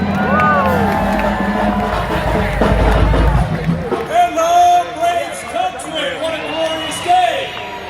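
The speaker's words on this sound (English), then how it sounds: "Please give a warm round of applause to Mr. Chip Terry!" A large outdoor crowd at a Braves celebration parade in Atlanta cheers and whoops, loud and close, with a rumbling roar at first giving way to scattered shouts and voices over the babble.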